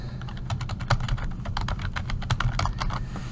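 Someone typing a web address on a computer keyboard: a quick irregular run of close, light key clicks with brief pauses, no speech.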